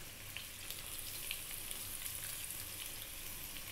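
Potatoes frying in olive oil in a pan over above-medium heat with salt and black pepper, an even, soft, continuous sizzle with scattered tiny crackles and nobody speaking.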